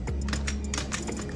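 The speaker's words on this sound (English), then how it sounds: "So let's first off type pizza." Someone types on a computer keyboard while building a pizza poster in Photoshop: a quick, steady patter of close key clicks with no talking.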